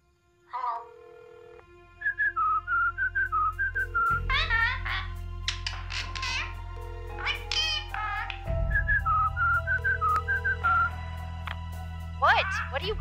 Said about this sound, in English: Hannah, it's not a song that Tippy's singing. It's a phone number.